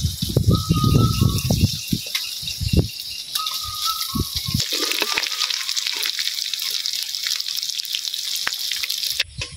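Small fish sizzling in hot oil in a home kitchen, a steady bright frying hiss with bubbling bursts and occasional stirring clatter, a low voice briefly audible early on.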